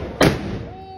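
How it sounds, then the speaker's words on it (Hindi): One sharp, loud bang of a firecracker close by on a rooftop in Ghaziabad during Bhai Dooj, followed by a fading echo and faint background voices. "और अब फोड़े जा रहे हैं पटाखे।"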